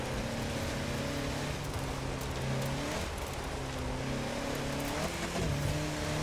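A high-torque sports car engine revs and pulls through its gears in Forza Horizon 4, a loud sustained drone that rises and drops with gear shifts, steady and close throughout, with no talking.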